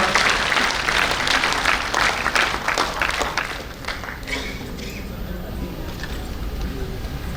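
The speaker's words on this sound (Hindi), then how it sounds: "साथियों, तालियों के साथ उत्साहवर्धन टनकपुर की टीम का" Audience applause for the Tanakpur power station team at an NHPC Raising Day ceremony in a corporate office, sustained clapping from a large crowd that stays loud, then eases slightly partway through and continues steadily to the end.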